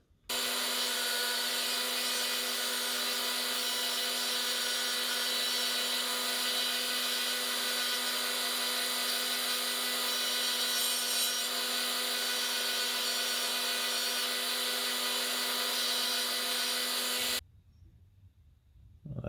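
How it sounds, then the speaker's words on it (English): A power sander shapes the body of a wooden swimbait fishing lure. It runs as a steady, loud, close whine with an even abrasive hiss for about seventeen seconds, then cuts off abruptly into quiet. "I'll chuck him on the sander and tidy up the lines a bit"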